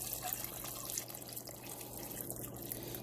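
Concentrated soup base pours into a pot in a home kitchen, a steady faint liquid trickle and splash that carries on without pause and with no talking.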